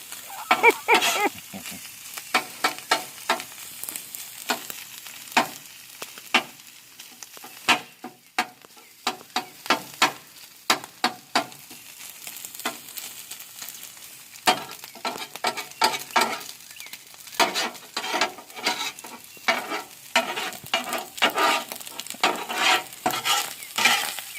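An egg frying under a splatter screen for Japanese fried rice, with crackling sizzle and frequent sharp spatters and pops recurring throughout, fairly close and free of talk.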